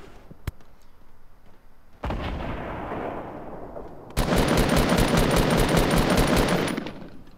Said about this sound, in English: there's someone else shooting at him